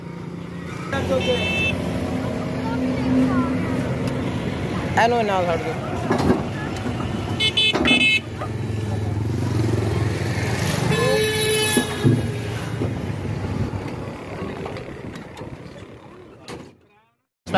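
A Superman coach bus bound for Rahim Yar Khan pulls up at a busy roadside stop in Pakistan, its engine rumbling while horns toot repeatedly and people talk nearby.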